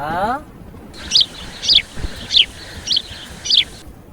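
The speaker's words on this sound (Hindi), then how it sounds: "चिड़िया" A small bird chirps five times in an even rhythm, short high tweets spaced about half a second apart over faint background noise.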